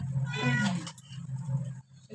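A house cat gives a drawn-out, insistent meow up close, followed by quieter, shorter mewing sounds against a low background hum.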